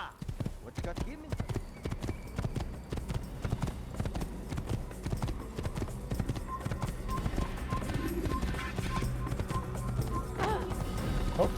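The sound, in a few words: horse hooves clip-clop in a video game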